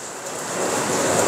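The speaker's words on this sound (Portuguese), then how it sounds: "A chuva." Heavy rain pours outdoors during a home brewing session, a steady broadband hiss that swells slightly and continues without a break, close and loud.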